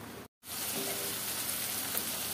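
Onions frying in oil for noodles, browning in the pan with a steady, close sizzle and faint stirring throughout, after a brief dropout near the start.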